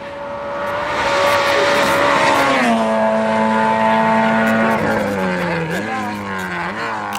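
A Peugeot 106 S16 rally car with a 1600cc 16-valve engine races past, its loud, steady engine note rising and falling through gear changes up close, with a voice talking faintly underneath.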